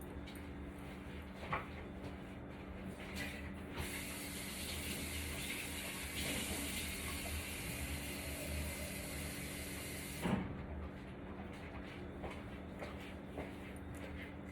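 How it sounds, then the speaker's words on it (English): Running water gushes steadily from a tap for several seconds, splashing into a container, then shuts off; quieter handling sounds before and after. "I'm going to rinse my bowl out and put some clean water in here"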